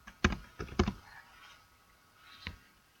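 A few distinct keystrokes on a computer keyboard, a quick cluster of clicks, then a pause before one more tap, close and fairly quiet.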